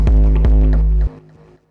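Synthesized tekno bassline serving as a kick's tail, made with Punchbox: two loud, deep booming pulses with a sustained low tone, cutting off abruptly after about a second, heard alone.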